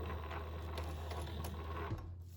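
An old sewing machine runs steadily as it drives a stitch back into an existing needle hole while resewing an old set, a close, continuous mechanical whir with a low hum throughout.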